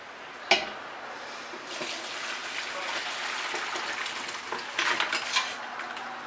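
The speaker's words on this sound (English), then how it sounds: "we're just going to strain it into another pot so we can get all those solids out." Lobster stock is strained into another pot in a kitchen, with a clank of metal cookware followed by a steady pouring, splashing rush of liquid. A second clatter of pots comes near the end.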